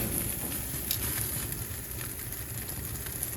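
A ribeye steak sears over open flame, giving a steady dense sizzle and crackle close by, with no talk.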